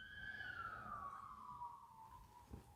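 A police or ambulance siren passes in the distance, a faint wailing tone sliding steadily downward as it moves away over low traffic rumble.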